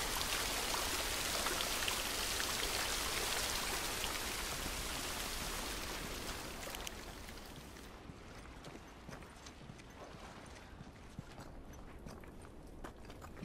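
Steady, dense rain falls in The Last of Us, a loud hiss of drops for about eight seconds before it drops to a quieter, sparser patter of scattered drops, as if sheltered from the downpour.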